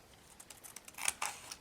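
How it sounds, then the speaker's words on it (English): A few quick, crisp snips of paper snips through paper, close and fairly quiet, in a short irregular burst. "you could take your paper snips and cut it off"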